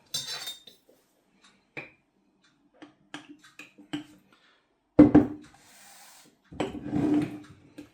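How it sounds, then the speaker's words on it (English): A flat blade stick stirs a sourdough mixture in a bowl, making sparse, quiet scrapes and rubs in short bursts with gaps of near silence and a couple of louder wet scraping passes. "What I'll do now is go in and give it a bit of a stir."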